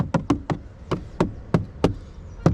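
Knuckles rap seven times on the hard plastic inner door panel of a Fiat Titano Ranch 4x4 pickup, giving sharp, hollow, evenly spaced knocks close up with no talking.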